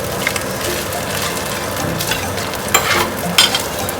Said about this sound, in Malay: Kita kacau sebati nasi kita ni.